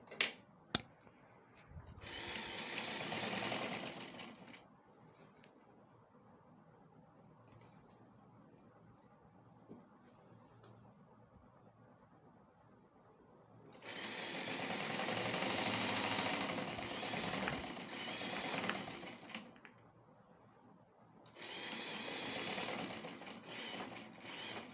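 Sewing machine running through palazzo trouser fabric in three sustained bursts of rapid mechanical whirring and clatter, with quieter handling pauses between them.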